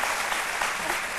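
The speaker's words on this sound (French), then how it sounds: "on applaudit très fort" An audience at a televised event applauds loudly and steadily, a dense wash of clapping filling the whole moment with no voices over it.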